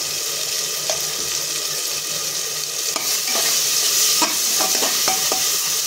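Spices with turmeric and asafoetida sauté in oil in a pan, a steady close sizzling hiss broken by spatula scrapes and stirring clatter, loud and without talk.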